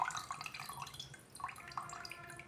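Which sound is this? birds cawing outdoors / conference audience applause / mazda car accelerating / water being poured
water being poured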